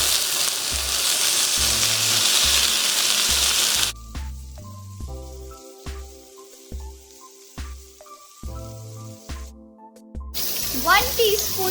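Chopped aloe vera and slit chillies sautéing in a pan, a broad steady sizzle for about four seconds that then drops away, leaving quieter pan noise, with background music running through.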